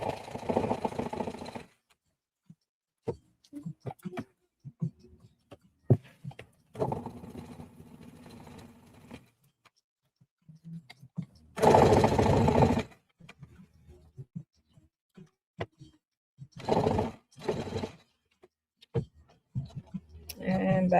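A sewing machine backstitches a linen or denim top in a home sewing session, running in short loud mechanical bursts separated by pauses, with occasional clicks and handling noises between stitches.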